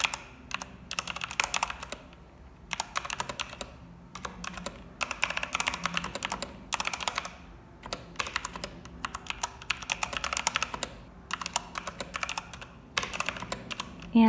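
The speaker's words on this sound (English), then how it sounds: "I was gonna do a lot of like typing" Bursts of rapid mechanical keyboard typing come close and loud, broken by brief pauses, with a clicky, clattering rhythm.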